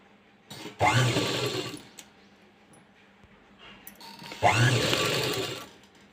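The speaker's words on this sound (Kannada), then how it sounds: "ಇಲ್ಲಿ ಸ್ಟಿಚ್ ಹಾಕ್ಬೇಕು ನಾವೀಗ" Sewing machine stitching the lining onto a cut-work blouse, two bursts of close, steady motor whirring about a second each, separated by a quiet pause with light handling noise.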